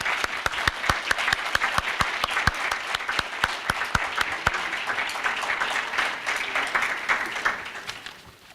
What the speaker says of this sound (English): Let's give a warm round of applause to these students.